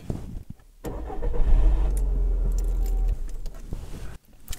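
A key rattles in a car's ignition before the engine cranks and starts, running for a couple of seconds up close, then cutting off, with no voices.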